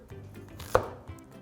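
A kitchen knife cuts potatoes on a board while preparing a beef brisket doenjang stew, one sharp close chop standing out amid quieter cutting and handling noise.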